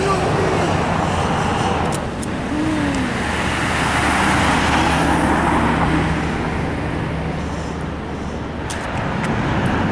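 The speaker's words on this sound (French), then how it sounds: "Ah, camion!" A truck rumbles by on a road in the United States, near the way to Antelope Canyon. The heavy, continuous roar of traffic stays loud throughout, with a passing swell and faint talk mixed in.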